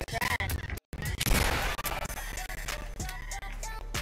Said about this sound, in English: He shot you!